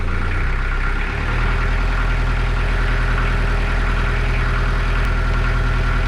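A steady, low boat engine idle rumbles continuously nearby, even and unchanging throughout, with no voices.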